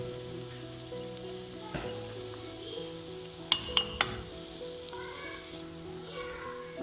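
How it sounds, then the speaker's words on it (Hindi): Chicken fries gently in a pan as ginger and garlic go in, a soft steady sizzle with a few sharp clinks of a spoon against the pot midway; close, quiet, no voices. "चिकन को हमने अच्छी तरह भून लिया। अब इसमें हमने अदरक डालना है और लहसुन डालनी है।"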